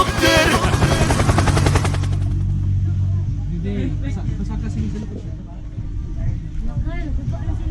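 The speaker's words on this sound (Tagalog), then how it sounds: "Helicopter, helicopter." A helicopter flies overhead on Siquijor. Its rotor thuds pulse loudly at first, then fade into a lower rumble while voices talk and call out nearby.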